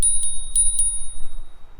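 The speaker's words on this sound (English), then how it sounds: "we have the inclusion of this little bell here" A small handlebar bell on a GoPowerBike GoSpeed 750W, 48V fat-tire electric bike rings four quick, bright dings close up, each leaving a lingering metallic tone over a quiet background.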